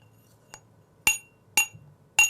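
A glass tumbler struck lightly four times, the first tap faint and the next three sharp, bright clinks that ring briefly, spaced about half a second apart in a quiet classroom setting.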